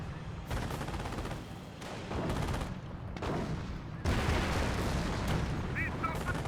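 Anti-tank guns fire repeatedly in a Company of Heroes battle, sharp reports in quick bursts amid dense gunfire and booms, with a voice commentating over the steady clamor.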